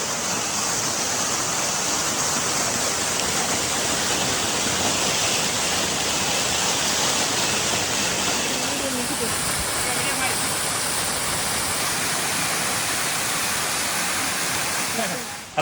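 Elaneeru Falls, a waterfall near Kudremukh in Chikmagalur, roars as a steady, loud broadband rush of falling water that continues unbroken for the whole stretch.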